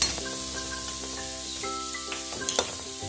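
Turmeric sizzling as it hits hot tempering oil on a switched-off gas stove, made for crisp thin poha chivda; a steady close sizzle and crackle runs through with a few sharper pops near the end.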